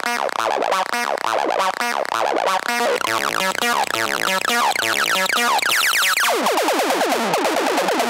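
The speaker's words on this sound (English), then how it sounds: "is based on a simple sawtooth wave coming from the Erica Synths Black Wavetable VCO" An acid synth line from a sawtooth wave on an Erica Synths Black Wavetable VCO, fed through a Trashmaster bandpass filter and overdrive module, pulses in rapid repeated notes with sweeping filter movement, loud and alone.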